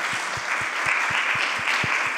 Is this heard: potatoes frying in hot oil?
no